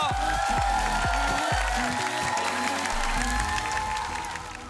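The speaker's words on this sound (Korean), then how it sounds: "레드벨벳의 웬디 씨에게 여러분 격려의 박수를 부탁드립니다" Studio audience applauding Wendy of Red Velvet on a Korean masked singing show, steady clapping filling the room while music and a host's voice carry over it, easing off toward the end.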